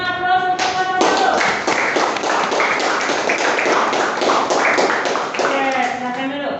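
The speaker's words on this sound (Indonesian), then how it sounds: "berikan aplaus untuk kelompok 1" A classroom group claps for group 1, with dense, steady applause from many hands lasting several seconds. A voice is heard at the start and again at the end.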